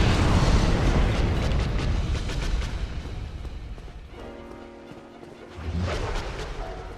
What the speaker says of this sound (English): it's explosion.